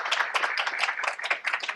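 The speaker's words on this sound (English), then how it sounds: "and maybe an applause" Applause from an audience welcoming panelists at an academic talk, a dense steady patter of many hands clapping that carries through the full moment without any talk over it.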